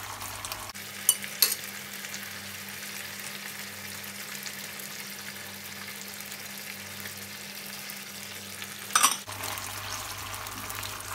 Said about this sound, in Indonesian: Diaduk dan dimasak sampai sausnya habis.